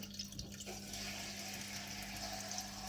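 Tap water runs steadily into a container being filled for a crab, a faint continuous splash and rush heard close with a low hum beneath.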